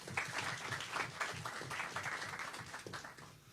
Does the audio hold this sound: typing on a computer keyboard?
no